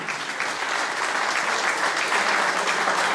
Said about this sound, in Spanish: un aplauso para Ramiro.